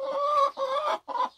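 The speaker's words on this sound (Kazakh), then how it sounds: "мына черный тауық. Әзірге осы тауықтарымыз." Domestic chickens, including golden and black hens, give three close, loud clucking calls in quick succession, the last one shorter after a brief pause.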